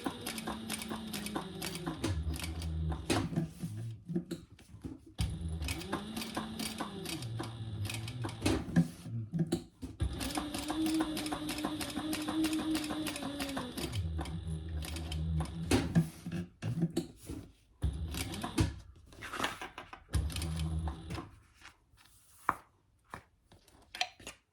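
A sewing machine stitching a tag onto a wallet at a 2.5 stitch length runs in rapid mechanical bursts with brief pauses between, close and clear, ending in sparser clicks and knocks.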